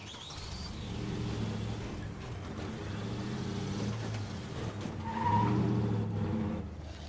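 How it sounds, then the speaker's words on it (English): A truck drives in the video game State of Decay 2, with a quiet rumbling engine and a tire squeal or skid partway through, with no talk. "Be careful when we drive our truck out not to hit it."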